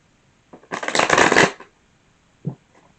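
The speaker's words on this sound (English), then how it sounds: "Give it another shuffle." Tarot cards shuffled by hand, a close, crisp riffling burst lasting under a second, followed by a single soft tap of the deck settling.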